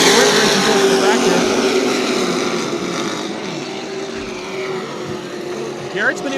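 Super trucks race at Myrtle Beach Speedway, a loud, continuous engine roar close by that shifts pitch as trucks pass, with a commentator talking over it.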